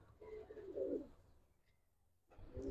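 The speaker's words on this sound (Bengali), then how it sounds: "এগুলা জিরাফ গলার কবুতর, গলা অনেক" Giraffe-neck pigeons give soft, low cooing calls, one burst early and another starting near the end, faint and close with quiet room noise between.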